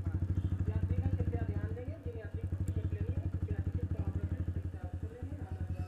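A Yamaha R15 motorcycle with a full-system loud exhaust idles nearby, a rapid, rhythmic pulsing throb with steady clatter that continues throughout.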